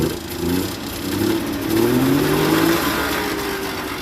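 A DKW car engine, the quiet-crankshaft example, revs as its throttle is blipped, a steady close-up engine drone rising and falling in pitch over several seconds with no talk.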